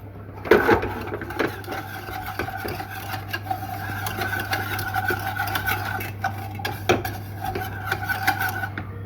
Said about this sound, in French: Surtout bien fouetter